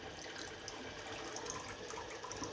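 Water flushing through a Sharp water purifier during its flush cycle, a steady close-up rush of running water that holds at an even level with no talk.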